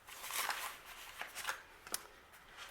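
Paper cash bills rustle and flick as they are handled and slid into a paper envelope, with a few soft crisp riffles and rubs, quiet and close with no talking.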